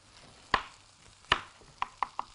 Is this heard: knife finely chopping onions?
yes